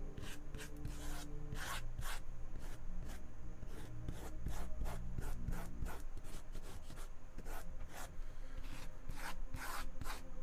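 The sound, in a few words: burnishing the edges of a painting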